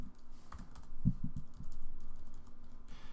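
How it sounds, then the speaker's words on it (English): Keys clatter on a computer keyboard in a few quick bursts of typing, close and fairly quiet, with no talk over it. "they start typing 122 Buffalo Upper"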